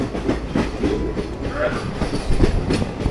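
A passenger train crossing the Farakka Barrage over the Ganges on a Kolkata-to-NJP run, wheels clattering in a steady rhythm with a brief squeal, heard close from on board under faint background murmur.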